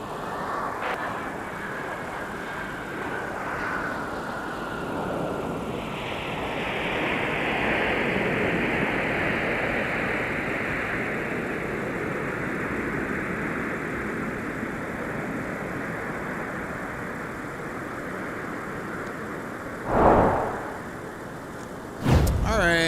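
A United airliner inbound from Denver roars steadily at MSP airport in winter, the broad engine rumble swelling mid-pass and then holding, with brief sharp knocks near the end.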